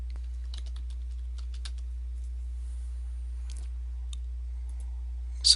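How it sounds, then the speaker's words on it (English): Typing a plugin search term on a computer keyboard, sparse light clicks and taps over a steady low electrical hum, quiet and close. "So type in that search term."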